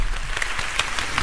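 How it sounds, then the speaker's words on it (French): Short burst of applause for students in a classroom, a dense patter of clapping from a small group lasting about a second. "Ça vaut un petit coup d'applaudissement."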